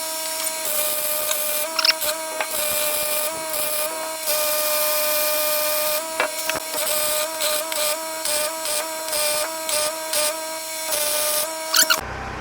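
A welder running continuous beads on a steel spare tire mount for a dump trailer, turned down to a lower setting: a steady crackling buzz in near, sustained runs broken by short pauses, with no talk.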